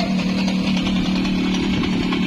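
A small gasoline engine on a worn farm machine due for overhaul runs steadily and loudly up close, with a rough, buzzing, chainsaw-like drone throughout and no speech.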